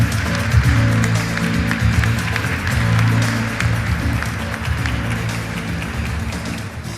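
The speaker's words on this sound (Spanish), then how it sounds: "Recibamos con un fuerte aplauso a Soledad Barruti." Loud, dense audience applause at a conference welcoming a speaker, sustained clapping over a low hum of music or crowd noise that slowly eases toward the end.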